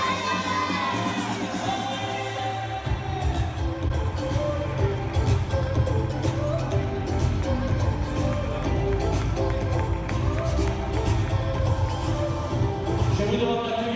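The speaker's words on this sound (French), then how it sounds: "Tous les applaudissements du public." A crowd at an indoor football tournament in Marseille claps and cheers, loud and sustained, with children shouting and whoops over the applause and a low hum beneath.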